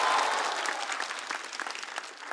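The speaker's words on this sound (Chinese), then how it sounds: "我们掌声再次送给" A studio audience at a stand-up comedy competition show claps in a dense, close burst of applause that gradually tapers off.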